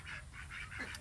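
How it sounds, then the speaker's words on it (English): Ducks calling softly in the background outdoors, a few faint honking quacks in quick succession over low ambient noise, with no one talking. "The ducks are also down here."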